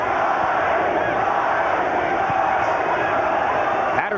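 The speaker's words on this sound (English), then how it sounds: "Crowd chanting for Gatti." Spectators at Arturo Gatti's bout against Tracy Patterson chant his name, a loud, sustained crowd roar filling the whole stretch with a brief sharper accent near the end.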